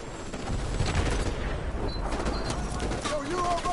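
Gunfire in the Modern Warfare 3 video game as fire is poured onto a balcony: a dense, sustained fusillade of rapid shots and battle noise, loud throughout, with a few high whistling sounds near the end.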